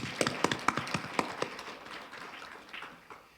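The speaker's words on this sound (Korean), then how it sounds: "건강하시라고 박수 한번 보내드렸으면 좋겠습니다." Audience at a Korean commemorative ceremony and book launch clapping, several sharp, distinct handclaps in quick rhythm that soften into a fainter patter.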